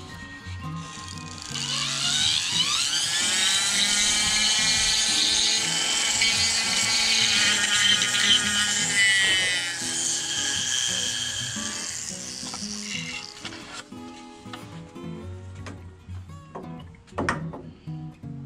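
A rotary tool with a flat-topped burr carving the fins of a wooden brown trout: a loud, steady high whine for most of the stretch, then it cuts off into scattered scraping and tapping handling noises.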